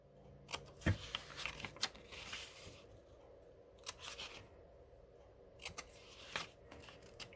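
Scissors snip small triangular tabs from paper ephemera, a handful of sharp crisp cuts in irregular bursts with quiet pauses between, close and fairly soft.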